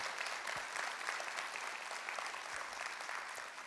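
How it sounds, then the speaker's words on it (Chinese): A crowd at a direct-selling company event applauds warmly, a dense, steady clapping that holds at an even level throughout. "给他们一个热烈掌声"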